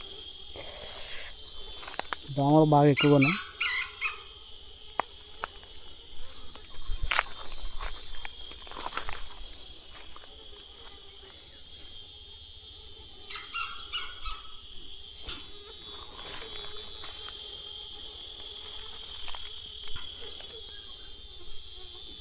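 Loud, rising calls of jungle fowl or peafowl burst out once near the start, then faint calls follow later over a steady insect drone and a quiet voice in the Kondapalli forest near Amaravati.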